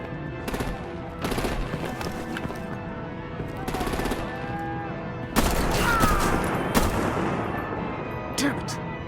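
Heavy gunfire erupts in the Telltale Batman game: rapid machine-gun bursts and booming artillery-style volleys come in repeated loud waves, with a sustained barrage near the end, mixed with voices.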